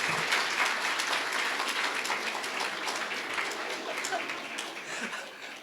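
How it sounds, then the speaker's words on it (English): A room full of guests at an awards banquet claps for a third-place award winner, dense steady applause that holds evenly and slowly tapers. "You got applause from your fan club"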